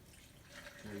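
Film developer is poured carefully into a developing tank up to the one-roll mark. The faint, soft liquid trickle thickens slightly toward the end.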